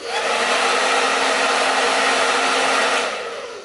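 A T3 Aire 360 hair dryer, quieter than a standard blow dryer, blows with a loud, steady whooshing roar for a few seconds before being switched off and winding down.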